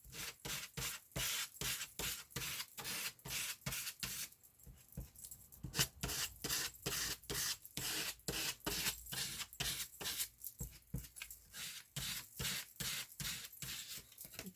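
An old holiday card scrapes paint across a journal collage page, making a steady run of short, close scratchy strokes in an even rhythm with brief pauses, no voices.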